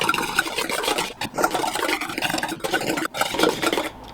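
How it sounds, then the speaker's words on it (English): A whisk beats egg whites in a bowl with fast, steady scraping and rattling strokes, loud and close, broken by a few brief pauses. "we're now just going to whisk up these egg whites"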